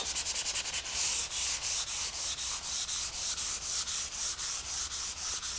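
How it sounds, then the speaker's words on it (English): Light strokes of 400 grit sandpaper passing over a wood surface, a steady rhythmic rubbing of roughly three strokes per second, close and even, with no talking. "I'm going to take some 400 grit sandpaper. Very, very lightly. I just want to go over the surface."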